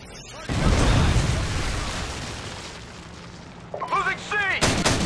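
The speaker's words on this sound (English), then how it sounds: "Friendly Predator missile incoming." A Predator missile strike in a Call of Duty multiplayer match lands as a loud, close, rumbling explosion that slowly decays, followed near the end by brief chirpy game voice sounds and a final burst of noise.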